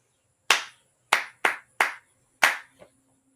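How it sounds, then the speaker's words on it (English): Bare hands clap out a short rhythm: five crisp, close claps spaced unevenly over about two seconds, followed by one faint tap, with silence around them. "I'm going to clap it, then you're going to pause the video and see if you can write it down."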